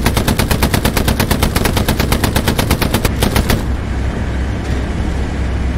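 Machine gun fire in the WWII shooter game Hell Let Loose: loud, rapid, evenly spaced bursts rattle for about three and a half seconds, then cut off into a low background rumble.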